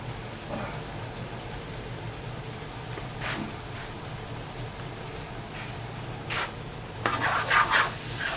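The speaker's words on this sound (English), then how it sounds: "So it's sort of boiling here as opposed to frying" Korean beef bulgogi with sesame seeds cooking in a pan, simmering in its juices so it bubbles rather than fries, giving a steady soft hiss with occasional scraping stirs near the end and no talking.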